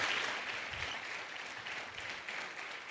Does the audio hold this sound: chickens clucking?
no